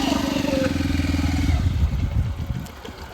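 A motorcycle engine runs close by at a steady mid-pitched drone, its note shifting and loosening into uneven pulses midway, with a faint voice underneath.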